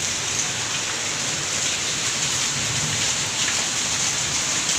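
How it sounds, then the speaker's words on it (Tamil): Heavy rain pours down steadily, a dense continuous hiss of drops with no voices, loud and close throughout. "சரியான மழை பெய்யுது."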